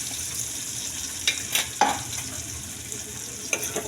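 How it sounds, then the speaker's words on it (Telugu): Masala frying in oil for egg gravy, with a soft steady sizzle under a few sharp scrapes and clinks of a spoon stirring against the pan, close and with no talk. "మసాలా కూడా మంచిగా కలర్ వచ్చినంత వరకు ఫ్రై చేసుకోవాలండి."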